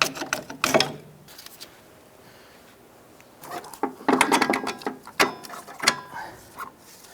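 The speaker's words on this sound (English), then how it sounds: "Now let's go ahead and remove the 2 bolts holding the strut to the knuckle." Metallic clanks and ratcheting as bolts come out of a strut-to-knuckle mount on a 2001-2007 Ford Escape, in irregular bursts of clatter separated by quieter stretches, close and moderately loud.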